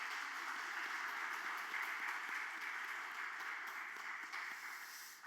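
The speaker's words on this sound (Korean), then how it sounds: "환영하고 축복하는 박수 하겠습니다" Church congregation clapping to welcome and bless a visiting family during a Wednesday worship service, a faint, steady wash of applause with no clear individual claps.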